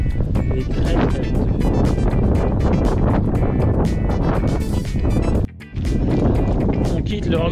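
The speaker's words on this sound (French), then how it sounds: "Il est très venteux." Strong, steady wind roars across the microphone on a mountain trail during a 100-mile ultra race in the south of France, loud and continuous with a brief dropout near the end.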